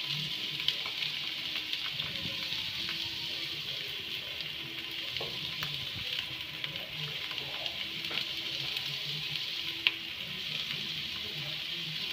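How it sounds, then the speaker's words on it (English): Chili and onion fry in a pan for momo filling, making a continuous soft sizzle with faint occasional clicks and stirring, fairly quiet and steady. "fry till little brown or translucent."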